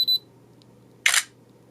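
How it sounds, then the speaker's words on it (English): Focus beep from a ZTE Axon 7 smartphone camera: one short, clear high electronic beep near the start, then a brief soft click-like burst about a second later, close and alone against quiet room hiss. "That's the beep, point and focus beep, as you get."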